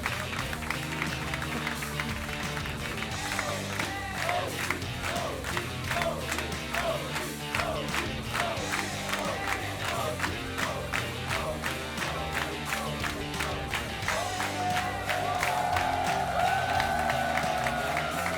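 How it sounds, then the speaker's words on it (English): A large esports crowd at the Stockholm Major claps and cheers continuously, with dense rhythmic applause and scattered shouts, loud and sustained for the whole stretch. "give a big round of applause to OG, your major champions"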